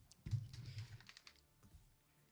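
A computer keyboard being typed on in a burst of quick, close clicks and key taps, loudest early on and then thinning to scattered presses.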